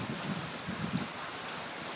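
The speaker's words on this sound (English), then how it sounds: "Rain's hard here." Heavy rain pours steadily at a riverside fishing camp by the Colorado River on a warm, wet morning, a dense continuous hiss of drops drumming on surfaces close by with no voices.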